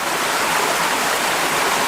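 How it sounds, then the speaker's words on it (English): A stream runs under a wobbly bridge on a mountain hike in Maokong, Taipei, Taiwan, giving a steady, loud rush of water that goes on without a break, close by and with no voices. "this is the water flowing under the bridge"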